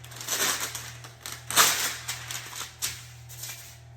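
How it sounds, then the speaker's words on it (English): Parchment paper pulled from a roll and handled for cake pan prep, giving soft crinkles and rustling bursts with a faint steady hum underneath. "You're gonna wanna pull a piece of parchment"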